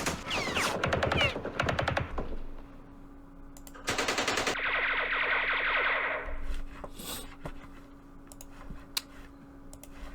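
Machine gun bursts in the Vietnam war game Campaign Series Vietnam, fired at an infantry platoon: loud rapid clattering volleys in two clusters, followed by a sustained hissing tone and scattered sharp clicks.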